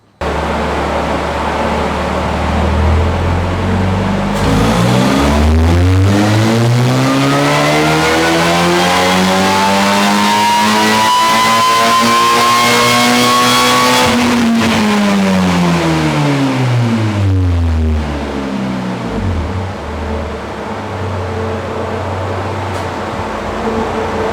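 A supercharged Ariel Atom with a 2.4-litre Honda Accord engine and Eaton supercharger runs on a dyno, starting at idle, climbing in one long loud pull with a rising whine, then dropping back to a burbling idle.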